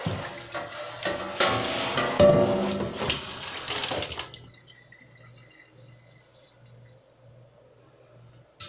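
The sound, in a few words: rinsing soapy water off an Amiga 2000 case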